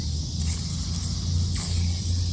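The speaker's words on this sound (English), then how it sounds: "I've got my water sitting here. Let's spray it." A spray bottle spritzes water onto a dug-up silver coin outdoors, giving a few short, close hissing bursts over a low steady background rumble.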